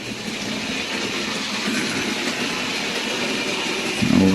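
OO gauge model train running steadily with kit-built coal wagons, a continuous close rolling rumble and track rattle with a brief louder clatter at the end.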